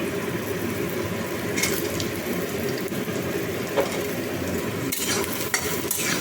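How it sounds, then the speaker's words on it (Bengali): Cut potato strips fry in hot oil in a home kitchen pan. A steady, close crackling sizzle runs throughout, with occasional stirring clacks and bubbling bursts and no voices. "এবার আমি আলুগুলো ভেজে নেব সব আলুগুলোই দিয়ে দিচ্ছি"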